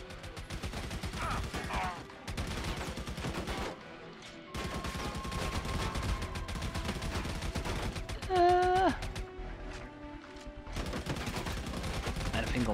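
Rapid video-game gunfire in Army of Two, set in Al Faw, Iraq: bursts of automatic shots crackle in clusters with brief pauses, loud and close, alongside in-game effects and occasional voices.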